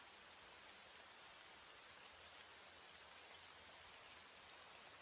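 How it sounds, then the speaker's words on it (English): Steady rain falls at night, a dense, even hiss of drops on surfaces that runs unbroken and fairly soft throughout, with no voices. "As the rain falls and the night deepens"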